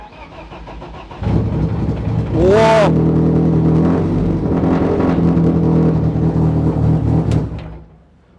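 A heavily modified BMW E36 engine cranks and fires up loudly, then revs and settles into a steady rumbling idle, with a brief exclamation from a person nearby.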